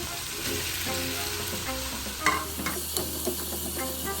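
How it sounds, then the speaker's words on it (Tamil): Minced chicken keema sizzles in a pan as tomatoes go in, with a soft thump and clatter partway through, then a steady close frying hiss and light stirring noises, no talk. "இப்போ நம்ம தக்காளியை அதில் போட்டுக்கலாம்."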